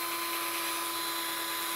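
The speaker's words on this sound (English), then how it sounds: "this is just a household drill." Household drill with a sanding pad working over a hazy car headlight during restoration, a steady high-pitched whirring hum with a strong tonal whine, continuous and close with no talk.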